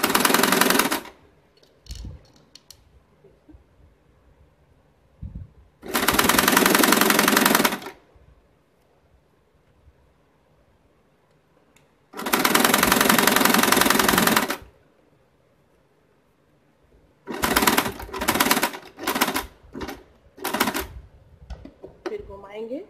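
Sewing machine stitching cloth for a small pocket bag made from leftover fabric, heard in three bursts, two steady runs of a few seconds each and then a stuttering series of short stitches, with quiet pauses between.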